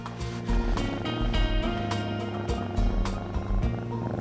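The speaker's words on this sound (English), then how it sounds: "Did you hear anything under all that purring?" A cat purrs during a vet's health check, a close, steady rumbling purr with a pulsing rhythm and some faint background noise.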